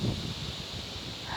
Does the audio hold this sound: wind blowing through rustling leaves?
yes